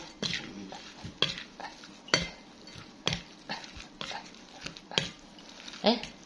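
Plates and dishes being handled in a home kitchen: a series of close clinks and scrapes of crockery and cutlery, repeating every second or so, with occasional faint voices.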